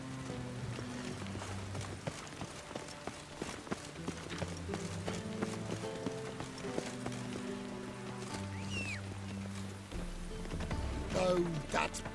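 Horse hooves clip-clopping in a steady rhythm in the video game The Witcher 3, running under game music, ambient sound and a speaking voice.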